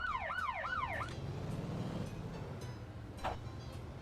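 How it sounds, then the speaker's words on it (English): Wailing emergency siren in the driving game Motor Town: Behind The Wheel, rising and falling for about a second over steady engine and road rumble, followed by a quieter stretch of traffic noise. "At least it knows when it hears the siren."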